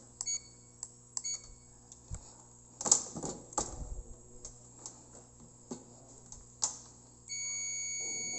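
A multimeter buzzer on continuity setting sounds a steady electronic tone near the end, preceded by scattered clicks, taps and handling noises while testing a rice cooker's thermal fuse.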